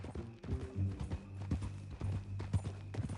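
Horse hooves clip-clop in a slow, irregular rhythm close by in a video game, over a low humming backdrop.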